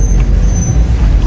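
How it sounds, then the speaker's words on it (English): A full bus on a busy Kingston, Jamaica street: a loud, close diesel engine drone with road traffic noise throughout, under a voice speaking briefly. "Bus full."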